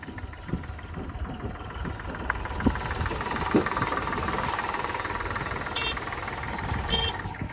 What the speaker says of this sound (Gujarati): આ ટ્રેક્ટર આવી ગયું છે